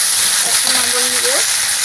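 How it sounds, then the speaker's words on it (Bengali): Vegetables fry in a pan with a loud, continuous hiss and sizzle, while a faint voice-like tone rises briefly in the middle. "এবার সবজিগুলো আমি একটু ভেজে আনবো, ভেজে আনলে ভালো হবে।"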